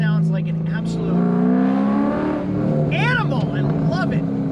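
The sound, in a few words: Corvette engine with long tube headers and Borla exhaust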